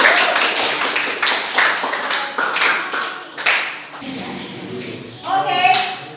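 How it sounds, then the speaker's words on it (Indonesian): A classroom of students claps hands together in a school lesson, giving a series of sharp, fairly close claps in a loose rhythm that thins out toward the end, with a voice briefly heard over it. "Tepuk tangan buat kita semua."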